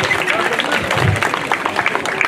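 Crowd applause at a rodeo held in honor of a patron saint, a dense, steady clatter of many hands running throughout, with voices mixed in underneath.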